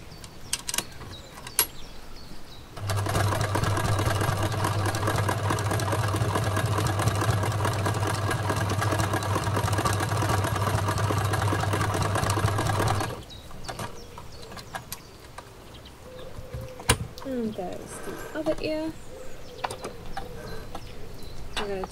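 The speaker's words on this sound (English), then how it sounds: "we are sewing along the lines that we've drawn. So right on that line I'm sewing." A sewing machine stitches along drawn lines on otter plush fabric, a steady mechanical whirring run of about ten seconds, close and fairly loud, with quieter handling noises before and after.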